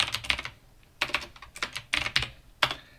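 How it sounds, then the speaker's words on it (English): Rapid bursts of close keystrokes on a computer keyboard come in quick clusters separated by short pauses, loud and crisp with no talk. "I'm typing too quick, everything's lagging on me."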